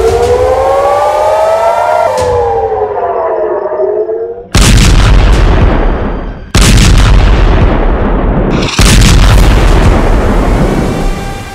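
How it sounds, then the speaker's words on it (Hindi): News footage of an attack on an Israeli missile headquarters: a wailing civil-defense siren rises and falls, then several loud, abrupt explosive booms follow in quick succession, each cutting in hard and ringing out. "नेतन्याहू को समझ नहीं आ रहा कि हिजबुल्लाह ने इजराइल के मिसाइल हेडक्वार्टर को कैसे आखिर उड़ा दिया।"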